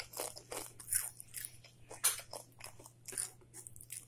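Ghost pepper chip bitten and chewed up close, a quick run of sharp, dry crunches in irregular bursts over a few seconds, with no talk.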